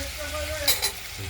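Paneer pieces sizzle in hot oil, a steady crackling fry with a couple of brief sharp clinks of a utensil partway through.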